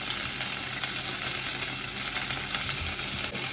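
Cut tomatoes fry with small shallots in sesame oil for chutney, a dense, even sizzle that stays loud and unbroken throughout.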